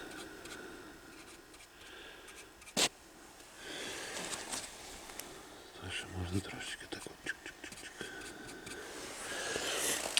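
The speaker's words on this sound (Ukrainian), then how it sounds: "Ну тако оці дефекти легонько підмальовуємо." Touch-up paint is brushed lightly onto small defects on an Opel Insignia headlight: faint, close scratchy strokes and soft rubbing, with a sharp tap midway and a voice murmuring quietly in the background.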